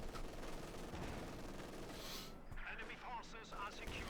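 Rapid bursts of gunfire from a Company of Heroes 2 match between Wehrmacht and US forces, with an MG-42 and an artillery barrage; a dense, continuous rattle under a commentator's voice.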